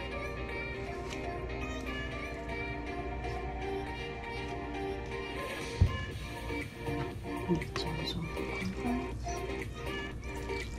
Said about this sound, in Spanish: Y aquí vamos a integrar un poquito de agua.